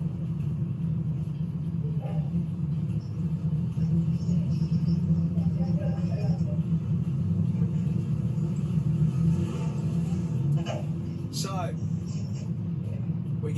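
Dirt late model race cars circle a dirt oval under a yellow caution during a feature race, their engines a steady, dense low rumble that holds throughout with no sharp revving.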